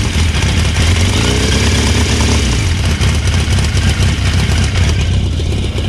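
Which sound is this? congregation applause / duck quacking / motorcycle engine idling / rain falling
motorcycle engine idling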